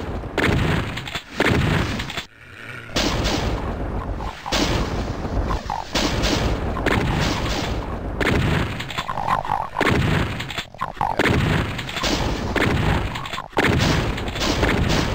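Repeated shotgun blasts in Doom II, loud booming shots at irregular intervals amid dense, chaotic combat noise, with short pauses between groups of shots.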